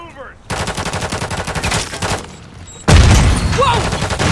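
Rapid automatic gunfire in Call of Duty Modern Warfare, a dense loud burst that starts abruptly, dips briefly, then returns with a heavy boom and more shots, while voices shout over the fight.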